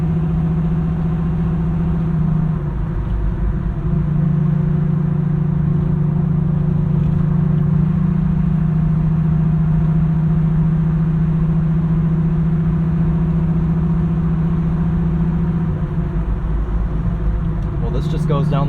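Steady engine drone and road noise inside a 1968 Chevrolet Camaro cruising down the road, a constant low hum that runs throughout, close and even in level.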